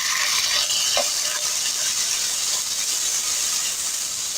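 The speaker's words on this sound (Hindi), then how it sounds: "चिकन को हम कलर चेंज होने तक फ्राई करेंगे।" Chopped boneless chicken frying in a pan gives a steady, loud high sizzle and hiss throughout, with a faint clink of a stirring utensil near the start and no voices.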